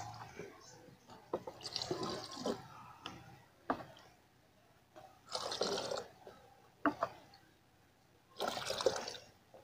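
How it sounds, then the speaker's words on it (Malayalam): Faint water, about one litre, pours into a container in several short splashing bursts, with quiet handling noises between them, while making banana peel fertilizer. "ഒരു 1 ലിറ്ററോളം വെള്ളം ഈ ഡബ്ബയിലേക്ക് ഒഴിച്ചു കൊടുക്കാം."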